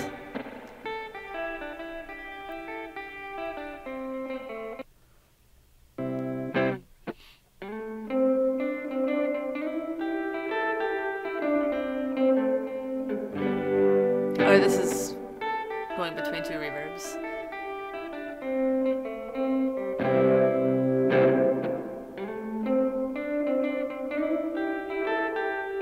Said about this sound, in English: A panning with an LFO or low frequency oscillator attached will make a kind of a tremolo sound.